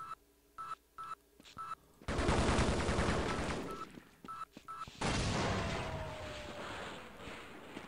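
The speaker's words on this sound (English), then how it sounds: "Still hear a lot of weapon noise." Gunfire and weapon noise in the Half-Life: Blue Shift video game: short electronic beeps, then two loud bursts of rapid shots and blasts, each trailing off into echoing decay.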